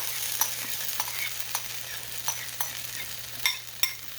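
Steady sizzling of steamed potatoes frying in a hot pan for corned beef hash, with occasional sharp clicks and scrapes of stirring, close and moderately loud.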